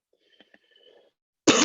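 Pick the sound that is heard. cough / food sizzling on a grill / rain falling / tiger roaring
cough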